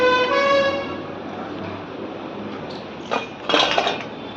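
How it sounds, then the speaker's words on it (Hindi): Dishes and utensils gathered up to be taken for washing in a home kitchen, a brief clink and clatter of pots and cutlery near the end after a quiet stretch. "चलो इसे हम बर्तन धोने में रख आते हैं।"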